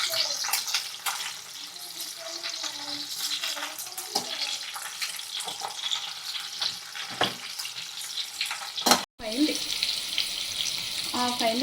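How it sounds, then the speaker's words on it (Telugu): Bitter gourd curry (kakarakaya potlalu) simmering on low heat in a pan, a steady soft bubbling and sizzle with occasional stirring scrapes, close by, with a brief loud clatter near the end. "చూసారా ఉడుకుతుంది."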